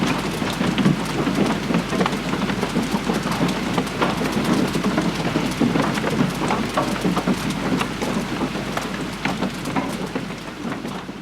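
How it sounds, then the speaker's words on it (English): Steady rain drums on the metal roof of a secluded off-grid cabin in winter, a dense continuous patter with sharper individual hits, loud and close for the full length. "falling asleep to the sound of the rain hitting the metal roof"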